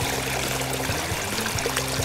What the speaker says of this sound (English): We're in a part of the creek called the jungle.